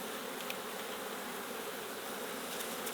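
Dense, steady buzzing of many honeybees swarming around an open hive during a summer split, close and continuous throughout with no talk.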